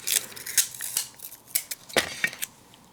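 Scissors trimming around a paper circle, a series of short crisp snips close to the microphone, irregular and quick, in an otherwise quiet room.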